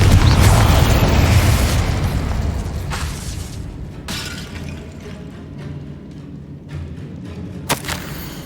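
Confringo blasting spell in Hogwarts Legacy lands with a loud booming explosion that rumbles and decays over several seconds, followed by scattered thumps and a sharp pop near the end.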